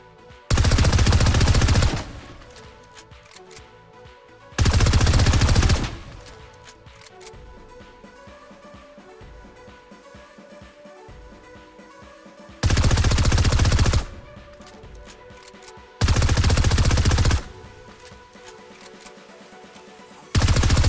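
Bursts of SMG fire from a new Fortnite weapon, four long loud sustained volleys of rapid shots separated by quieter game sounds and music.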